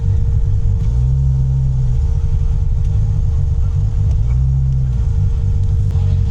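A 1000 HP Nissan Patrol drives around a track at a classic car show, giving a loud, steady low engine rumble that swells twice as the throttle rises and eases.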